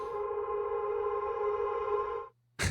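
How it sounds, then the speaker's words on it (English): A sample drenched in reverb and played backwards in Ableton, a sustained swelling tonal wash with a steady drone that holds for about two seconds, then cuts off sharply into silence before a burst of new sound. "we just took first class cruising, put a bunch of reverb on it, and then reversed that"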